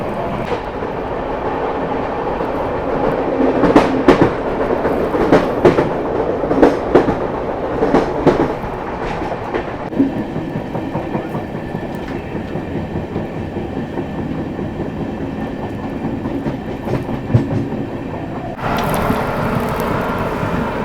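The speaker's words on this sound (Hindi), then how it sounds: "ओवरटेक करने वाली है अपनी श्री शक्ति एसी एक्सप्रेस" The Shri Shakti AC Express rushes past close by on an Indian railway with steady rumbling and repeated clickety-clack of wheels over rail joints, loud and continuous for the whole stretch.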